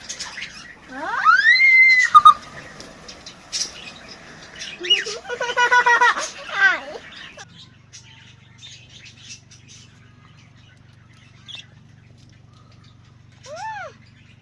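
Budgerigars in a family aviary let out loud squawks and rising chirps in bursts, with brief wing flutters, then a long quieter stretch over a low steady hum before a final close chirp.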